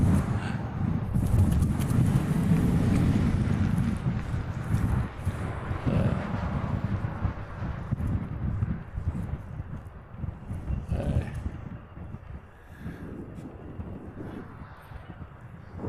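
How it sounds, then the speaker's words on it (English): Wind buffets the microphone outdoors at a Hawaii airport planespotting spot, a heavy, continuous low rumble with gusty pulses that is strongest in the first few seconds and eases somewhat later on. "Come on, wind, play nice."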